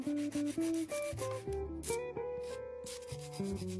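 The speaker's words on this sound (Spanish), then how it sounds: "siempre empiezo limando desde la mitad de la uña, en el lateral en línea recta." A nail file rasps rhythmically along the side of an acrylic tip extension, quick back-and-forth strokes, close and distinct with no talk.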